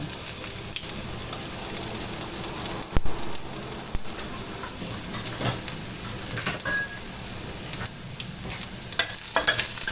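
Shallots and garlic sautéing in a little oil, a continuous close hiss of frying with scattered crackles and a few scraping stirs, no talk.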